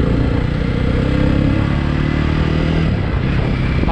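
A 2021 Jawa Forty Two motorcycle on its stock exhaust, the engine idling and revving loud and close with a deep, steady throbbing burble throughout.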